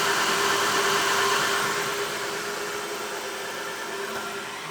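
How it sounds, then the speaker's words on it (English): An open-frame Elegoo Centauri 2 3D printer with no side panels, door or lid runs with a loud, steady, broadband fan roar and a faint constant hum, close by and unbroken throughout. "Without side panels, a door, or a lid, this printer is loud,"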